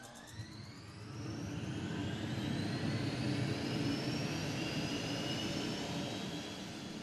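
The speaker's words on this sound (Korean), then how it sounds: "출고 전에 거치는 최종 엔진 테스트." A T-50 Golden Eagle jet engine runs during its final pre-delivery test, a loud, steady roar with rising whine tones that swell as thrust builds from low to high, continuous throughout.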